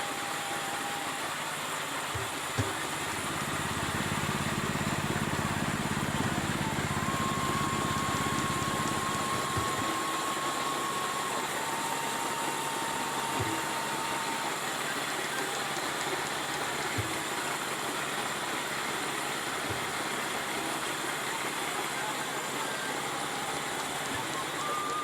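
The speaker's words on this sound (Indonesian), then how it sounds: "Kemudian singkong diparut atau digiling dengan mesin parutan." Motorised cassava grating machine running steadily, a continuous dense whirring and rasping drone with a faint mechanical hum underneath, sustained and even throughout with no voices.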